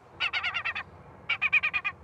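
A recorded gull distress call broadcast at an airport: two quick bursts of rapid, repeated harsh squawks separated by a short pause, fairly clear with no speech.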